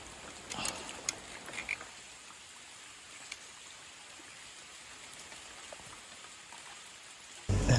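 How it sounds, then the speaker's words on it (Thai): Rain begins to fall outdoors during a fishing outing, a soft steady patter of drops with a few louder taps early on and a brief loud knock at the very end, no talk. "ฝนก็เริ่มตกแล้ว"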